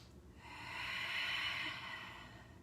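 Deep breathing during an exercise class: one slow, drawn-out breath swells and fades, faint and close, with no talking over it.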